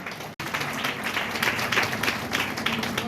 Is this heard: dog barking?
no